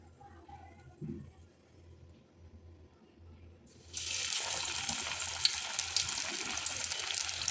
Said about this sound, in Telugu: సో ఇప్పుడు వీటిని మనము ఆయిల్లో ఫ్రై చేద్దాం